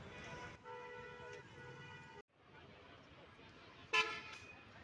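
A loud multi-tone hydraulic horn on an Al Hamra bus blares for over a second, then gives a short second blast, over steady road noise and faint background voices.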